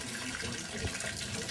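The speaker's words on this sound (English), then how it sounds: "Okay, putting in the water." Tap water runs steadily into a pot that already holds sugar, a continuous hissing splash at moderate level with no talk over it.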